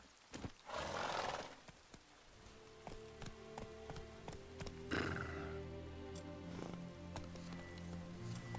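Roach, a horse in a video game, gives a neigh, then hooves clip-clop in a quick trotting rhythm over quiet background game music, with a second short whinny partway through, all fairly faint.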